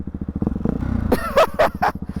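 Ducati Hyper 698 S1 single-cylinder motorcycle with an aftermarket exhaust thumps at idle, then snaps through several sharp, loud revs in quick succession, close by.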